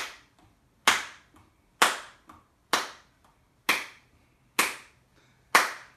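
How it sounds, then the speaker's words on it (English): Sharp hand claps in a body music rhythm, seven crisp, evenly spaced claps with faint soft taps between, close and alone. "That part would be clapping when my hands are out."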